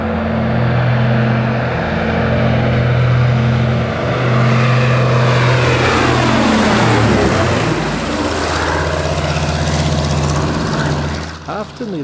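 A Consolidated Catalina PBY-5A flying boat in French colours flies past with a loud propeller drone that sweeps down in pitch as it passes, then settles into a lower hum, with a voice talking over it.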